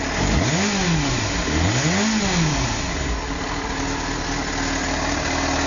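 A 2005 Yamaha FZ6 motorcycle engine runs steadily nearby, with two quick throttle blips rising and falling in pitch before it settles into a smooth idle.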